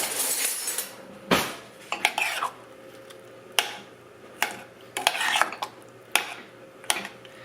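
A spoon stirs and breaks up peach chunks in a pan, making sharp metallic clinks and scrapes at irregular intervals over a faint background hiss.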